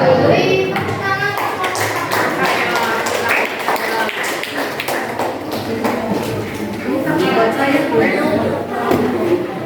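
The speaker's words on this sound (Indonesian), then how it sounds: "Beri tepuk tangan." A classroom group claps after finishing a presentation, with brisk, busy applause mixed with children's chatter and voices throughout.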